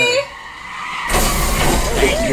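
A sudden loud crunching impact as one car hits another in a driveway, a broad burst of noise that starts abruptly and stays dense with clattering debris.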